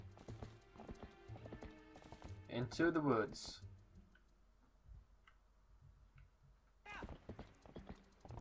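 Horse hooves clip-clopping in The Legend of Zelda: Twilight Princess HD, a steady rhythmic patter with louder, denser stepping in the middle and a voice talking over parts of it.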